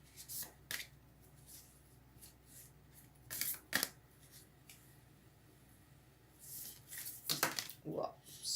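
Oracle cards from a Lover deck are shuffled with soft riffling bursts, then several spill and drop in a loud scattered flurry near the end; quiet voice between.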